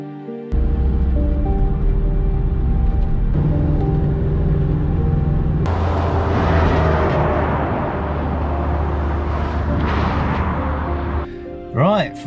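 A car drives along a road in Tunisia, steady engine rumble and road noise from inside the cabin, swelling briefly partway through, with a short whistling tone at the end.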